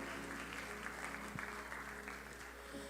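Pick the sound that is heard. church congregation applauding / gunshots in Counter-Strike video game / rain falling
church congregation applauding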